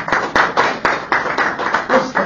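A round of applause for a presenter at a talk on entrepreneurship in planning, with sparse, uneven claps that thin out into a few individual hand slaps over a faint murmur of voices.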